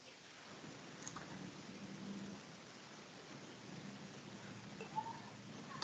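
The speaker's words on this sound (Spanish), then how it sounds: "está lloviendo." Rain falls steadily outdoors, a soft, faint hiss of drops with a low distant rumble underneath, continuous throughout with no speech.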